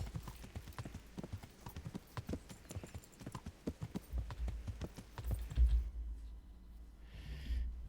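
Steady clip-clop of horse hooves in a medieval video game trots along at an even pace, fairly quiet, with a low rumble building toward the end.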